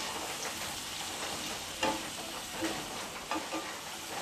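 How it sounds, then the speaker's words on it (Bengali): Papaya pieces with turmeric powder stirred and fried in a pan, a quiet steady sizzle with a few soft scraping bumps from the spatula, close and with no talking. "হলুদ গুঁড়ো দিয়ে এবার আমি ভালো করে নেড়ে নিচ্ছি।"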